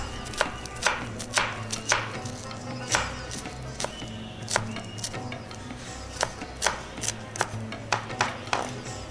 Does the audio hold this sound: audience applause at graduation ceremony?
no